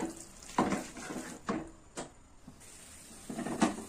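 Half a kilo of chicken is stirred and sautéed in a pan for a Tamil chicken kurma, with a few scraping stirs and faint sizzling in short bursts, fairly close.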